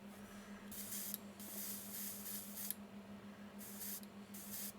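An airbrush sprays paint onto sculpted sabertooth cat figures in short hissing bursts, about four of them, separated by brief pauses, heard close over a faint steady hum.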